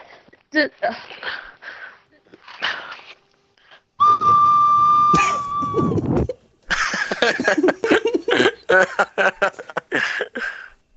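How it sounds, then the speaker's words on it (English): A clear, sustained human whistle holding one steady note for a couple of seconds, surrounded by people talking before and after. "Random whistle."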